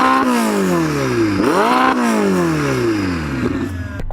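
A 3.9-litre twin-turbo V8 supercar revs hard and loud, its pitch sweeping up and down through repeated rising pulls with a sharp dip and recovery midway, no voices over it.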